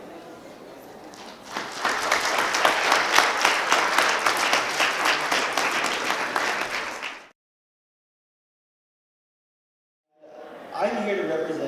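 Loud, sustained applause from an audience at a student union vice-presidential election debate fills about seven seconds, then cuts to silence before a voice begins speaking.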